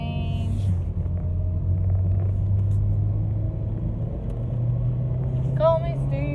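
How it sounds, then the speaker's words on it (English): Cars pass on a road in a low, steady rumble of traffic, heard from close by, with a brief voice near the end. "After these cars, I can go the other way."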